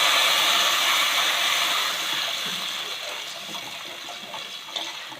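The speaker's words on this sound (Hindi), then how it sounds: "अब मैं इसमें दूध डाल रही हूँ।" A litre of milk is poured into a pan of frying vermicelli for a sweet sewaiyan dish, making a loud, steady rushing gush that slowly tapers off over several seconds.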